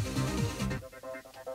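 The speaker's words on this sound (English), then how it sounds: "Another bass line, Atmo bass line." An atmospheric synth bass line from a studio production plays alone, low sustained notes shifting in pitch for under a second before thinning into softer, sparse pulses with faint upper harmonics.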